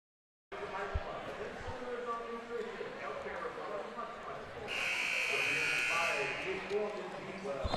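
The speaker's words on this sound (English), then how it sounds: "All right, the buzzer has sounded." A loud, sustained electronic buzzer sounds for over a second during a high school basketball game at Park Hill South High School, cutting through steady gym crowd chatter and a few ball bounces.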